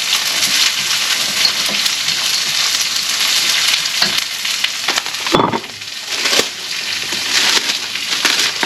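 Vegetables frying for Filipino pancit in a pan: a loud, steady sizzle throughout with brief stirring crunches and scrapes midway, close and continuous with no talk.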